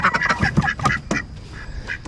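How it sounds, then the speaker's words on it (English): Several ducks quack close by in quick, overlapping bursts, loud and uneven, with no speech. "went in the rain a little bit and got the ducks"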